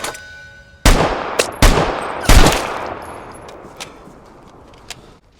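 Gunshots in the video game Vigor: three loud, close shots about a second apart, each followed by a long fading echo, then a few fainter distant pops.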